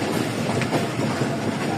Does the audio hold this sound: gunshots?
no